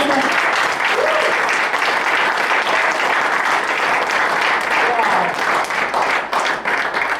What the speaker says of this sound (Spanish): Damos un aplauso a Dios por eso